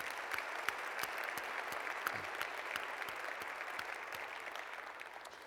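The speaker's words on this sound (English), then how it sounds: "Another round of applause," Audience applause at an annual conference general session honoring Denise Augustine, a steady dense wash of clapping from a large crowd that holds for several seconds and tapers slightly at the end.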